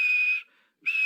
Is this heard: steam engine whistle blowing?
yes